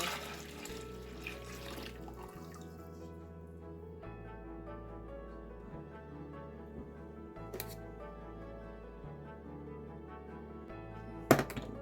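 Hot water poured from a kitchen vessel to cool it while making rolls, a steady close trickle and splash under a low hum, ending with a sharp knock.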